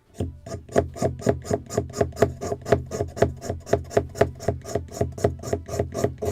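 A knife scrapes steadily along a wooden model boat part from a Muscongus Bay lobster smack kit as it is tapered, with about two dozen even, rhythmic rasping strokes, close and clear with no talking.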